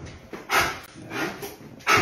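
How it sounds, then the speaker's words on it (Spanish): A dog barks in repeated sharp bursts during attack training, three or four close, loud barks with short pauses between them, no talk over them. "Ahora le voy a exigir más ladridos todavía."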